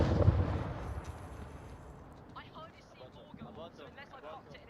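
A frag grenade in the Onward VR shooter bursts at the start with a deep, heavy boom that rolls off over a couple of seconds, followed by people talking.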